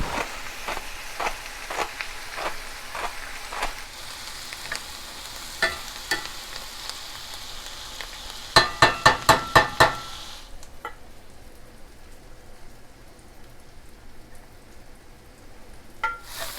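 Ground beef and onions browning in a pan with salt and pepper, a steady soft sizzle under a row of sharp rhythmic taps, then a short fast burst of clicks before the sound drops to a quieter hiss.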